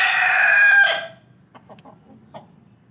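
A white rooster crows loudly and close for about a second, then a few short, soft clucks follow sporadically in near silence.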